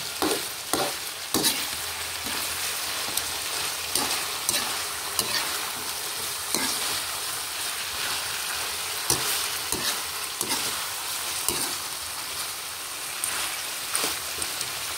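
Rabbit kaldereta sizzling and bubbling in hot oil in a pan, a steady dense frying crackle with scattered sharper pops and spatters, close and continuous with no talking.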